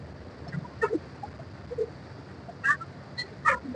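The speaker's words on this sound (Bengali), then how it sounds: "এই যে এটা এক ধরনের হাঁস।" A wild duck calling near a river crossing on a jungle safari in Chitwan National Park, Nepal, giving a few short honking calls in scattered bursts over quiet ambient background.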